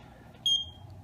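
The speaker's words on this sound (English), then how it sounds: "Once you do that, it starts to beep and flash" A Pet Stop dog collar gives one short, clear high beep while being programmed, set against a faint low background hum.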